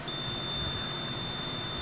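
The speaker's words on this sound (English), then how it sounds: "You touch any of these leads and you get that beep" A drone electronic speed controller gives a steady high-pitched electronic beep when its motor leads are touched, one continuous tone lasting a couple of seconds over faint background hiss, with no talking.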